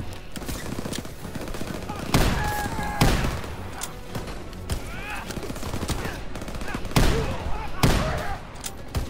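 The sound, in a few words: shotgun and machine gun fire, Call of Duty video game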